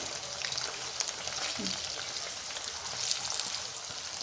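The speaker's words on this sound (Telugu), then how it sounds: "అన్నీ ఇప్పుడు కాలినాయండి, తీసేసుకున్నాము. ఎర్రగా కాలాలి ఈ విధంగా." Chicken pakodi pieces frying in hot oil, a steady dense sizzle and crackle running throughout at close range, with no talking.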